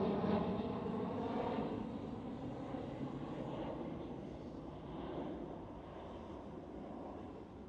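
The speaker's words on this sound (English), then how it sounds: "This is KLM City Hopper Embraer" KLM Cityhopper Embraer E190 jet at Amsterdam Schiphol, a faint steady engine rumble and hiss that fades slightly, heard alone at a distance.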